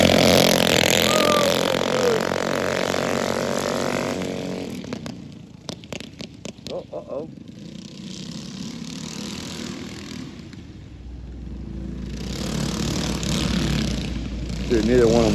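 Small outlaw mini bike engines whine and rev loudly, racing side by side and then fading as they pull away, with a sharp burst of revving mid-way and the engine noise swelling again near the end.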